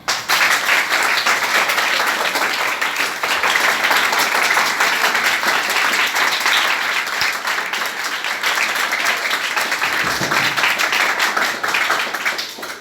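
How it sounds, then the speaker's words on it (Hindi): Tenth-class students at a government senior secondary school in Islampur, Gurugram, applaud during a Sahaj Yoga meditation session, a loud, sustained, crowded burst of clapping that stays steady for the whole stretch. "तालियां बजाओ।"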